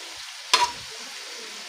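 Vegetables and beans are stir-fried for pancit lomi, a steady low sizzle broken by two sharp scraping stirs of a utensil in the pan, close up with no talking.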